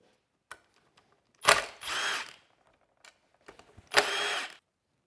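Power tool on a truck removing 8 mm (5/16) 12-point bolts from a compressor cover: short whirring bursts of two main runs with small clicks and taps between them, fairly quiet, nearby, no talking.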